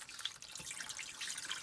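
Water running from a tap into a big cooking pot holding chicken for tamale broth, a steady faint splashing stream with no talking.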